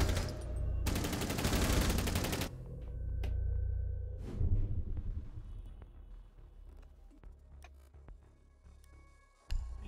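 Rapid automatic gunfire from the video game Rainbow Six Siege bursts loudly for about two seconds, followed by quieter in-game clicks, thuds and scattered ambient effects, with no talking.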